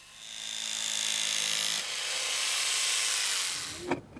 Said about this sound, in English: The panels are first cut to size.